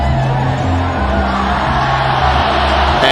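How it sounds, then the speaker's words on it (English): Football crowd in a stadium at a Southern Miss vs Florida State game, a loud continuous roar of cheering with low hum underneath, steady throughout with no clear breaks. "And you hear the fans cheering."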